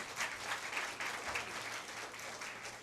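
A hall full of people at a Tamil literary society's mother-language day celebration applauds steadily, a dense even wash of clapping that carries through without pause, fairly soft in level.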